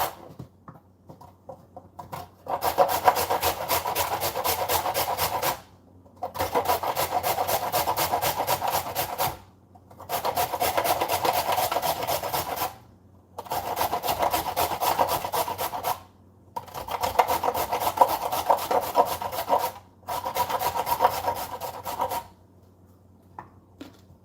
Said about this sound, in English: So let me finish grating first so we can talk.